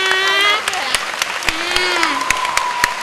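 Applause from a packed audience at a Thai physics exam tutoring session: dense, steady clapping throughout, with sharp individual claps standing out and a voice speaking over it at the beginning.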